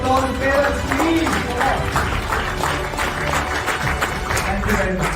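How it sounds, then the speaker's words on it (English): Parents in an audience clap for the presenters at an event, a dense, steady round of applause mixed with crowd murmur and some voices, continuing evenly throughout. "Let's give them a really good round of applause, parents, please."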